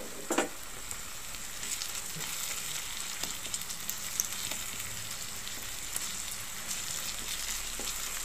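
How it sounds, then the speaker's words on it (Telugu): Onions and ginger-garlic paste fry steadily in a pan for a mulakada cashew curry, giving a continuous close sizzle with occasional stirring scrapes and no talk. "దీన్ని బాగా వేగనిద్దాం"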